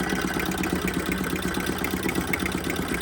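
Antique George Carette Stirling engine, repaired and running, gives a steady mechanical chuffing and knocking rhythm that carries on without a break, fairly faint and close, no voices.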